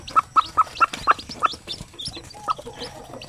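Zampen native chickens cluck in a quick run of short, sharp calls, about seven evenly spaced at first and then a looser, quieter pair, heard close up with no talking.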